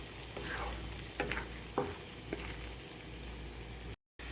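Tadka tempering for chana dal gosht sizzles steadily in a pan while a spoon stirs it, giving a few soft scraping clicks over the constant frying hiss, close and moderately quiet.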